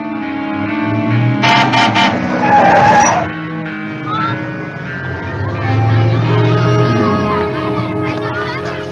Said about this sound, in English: Kirk runs towards the car, but isn't looking where he's going and almost gets hit by a passing car